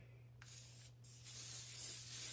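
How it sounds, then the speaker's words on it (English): Hairspray from an aerosol can sprayed in a thick coat onto a painting surface: a close, steady hiss broken by two brief pauses, then continuing unbroken to the end. "this is just some random hairspray"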